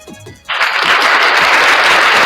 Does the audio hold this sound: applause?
yes